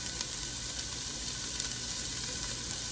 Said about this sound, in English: So we're gonna cook these onions for about 4 to 5 minutes